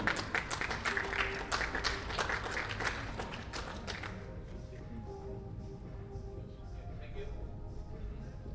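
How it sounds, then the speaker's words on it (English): An audience at the Asian Heyball Championship gives a round of applause, dense clapping for about four seconds that then thins out and fades, with faint voices underneath. "let's give a big round of applause to our team"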